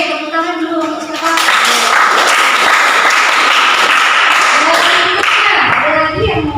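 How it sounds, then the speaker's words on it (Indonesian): Students applaud in a classroom, a loud, dense burst of clapping that rises quickly and holds steady for several seconds before tapering off, with voices heard before and as it fades. "tepuk tangan dulu untuk siapa?"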